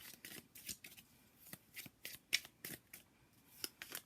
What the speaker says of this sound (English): some of you guys like to hear me shuffle it live